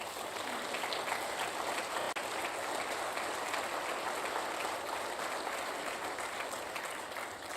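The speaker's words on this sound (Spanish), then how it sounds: "Suelte fuerte ese aplauso." Sustained applause from a church congregation fills the room, steady and fairly even throughout with a brief sharp tap near the middle, no voices over it.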